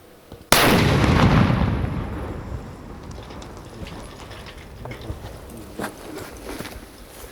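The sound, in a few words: controlled detonation of an enemy shell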